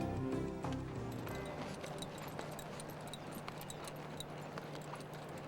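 A horse clip-clops along in New Orleans, its hooves striking in a steady rhythmic patter at moderate distance, fairly quiet against a soft background hum.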